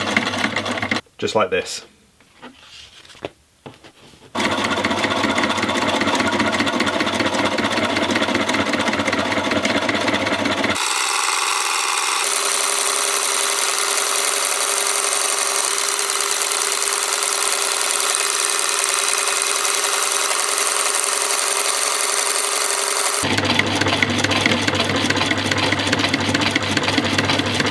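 A sewing machine zigzag-stitches around the edge of a waxed canvas camp kitchen utensil roll, running steadily and loud for long stretches after a brief spoken remark and some handling noise at the start.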